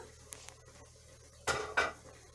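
A metal lid lifted off a cooking pot of simmering broth, giving two short clattering scrapes of metal close by after a quiet stretch with a couple of faint ticks.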